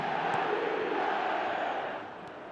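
A large stadium crowd roars and chants steadily in the eFootball video game, a broad sustained wall of massed voices that eases slightly toward the end.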